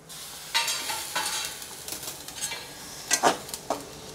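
Potato and spring onion sabzi cooking in a pan, with soft scraping stirs and light sizzling in irregular bursts, moderately close and without talk.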